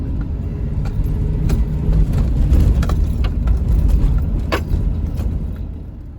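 A car drives along a road over a river, its engine and tyre noise a steady close rumble with occasional small rattles, no voices.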